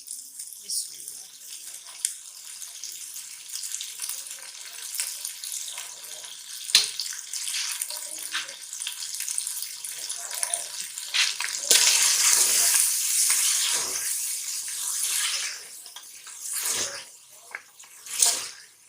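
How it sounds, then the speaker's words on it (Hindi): Mutton is stir-fried bhuna-style in a pot with soy sauce, giving a continuous sizzling and frying hiss with bursts of spatula scraping and stirring, close throughout. "2 मिनट तक इसकी अच्छी तरह बुनाई करेंगे।"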